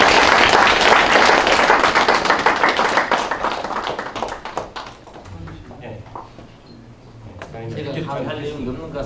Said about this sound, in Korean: 뜨거운 박수로 맞습니다.